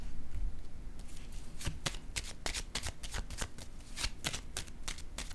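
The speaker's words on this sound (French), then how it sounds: "Je vais déposer une autre carte ici." Tarot cards are shuffled with steady riffling and flicking close to the microphone, then laid down with light taps.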